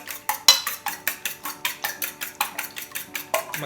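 Eggs beaten with chopsticks in a bowl for oyakodon, a fast regular clatter of about a dozen and a half close, crisp strokes against the bowl.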